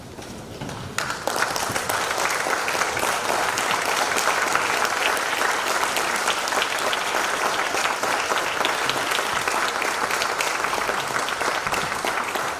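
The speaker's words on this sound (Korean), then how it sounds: "다 일어서셔서 뜨거운 박수로 격려해 주시면 감사하겠습니다" Loud, sustained applause from a large standing audience at a university development plan presentation, dense and steady throughout after a brief quieter start.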